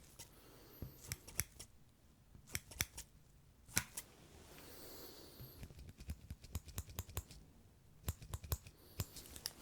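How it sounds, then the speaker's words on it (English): Crisp scissors snips in an ASMR setting, coming in quick irregular clusters of sharp close-up cuts against a quiet, soft background, loudest in bursts near the start and end. "Let's put the scissors down for a moment."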